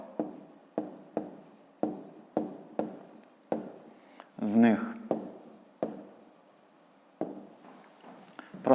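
A pen scratches out a fifth-grade math exercise in short, regular bursts of writing strokes close to the microphone, with a voice speaking briefly in the middle.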